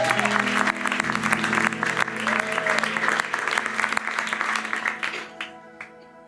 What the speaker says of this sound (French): Est-ce qu'on peut applaudir la louange ?